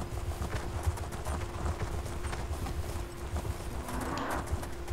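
Horse hooves clip-clop steadily while riding in Elder Scrolls Online, set in Elsweyr, a continuous close rhythmic trot over a low droning game ambience, with no one talking.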